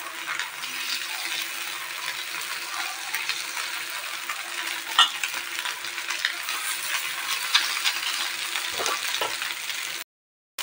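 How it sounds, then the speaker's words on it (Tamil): Anchovies fry in hot oil with a steady, close hiss and crackle, a few sharper pops standing out before the sound cuts off abruptly near the end. "இப்போ மீன் நல்லா ஃப்ரை ஆகிட்டுருக்கு."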